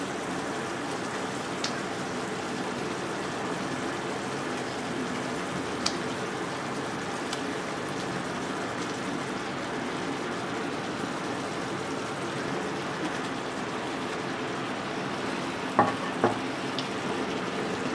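Eggplant sizzles steadily in a pan of melted sugar, a soft continuous frying hiss with a few faint clinks near the end, no voices.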